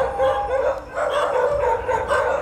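Dogs on an island at night barking in a steady, loud run of yelping barks close by, continuous over a couple of seconds with no talk.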